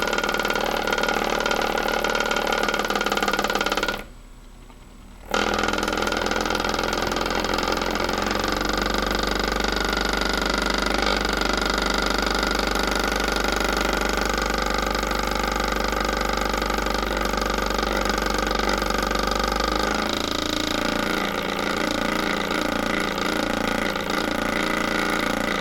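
A small generator engine runs steadily and loudly close by for the whole stretch, with one brief cut-out near the start and a shift in tone partway through as its speed changes.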